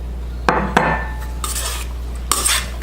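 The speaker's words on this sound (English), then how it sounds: "Mix that up really good." Utensils clink and scrape against a bowl while a cucumber salad with crumbled feta is mixed, giving a few sharp knocks followed by rustling stirs, close and moderately loud with no talking.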